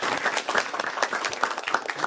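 An audience at a robotics seminar claps enthusiastically for a speaker, a lively dense spatter of applause that keeps up at an even loudness throughout.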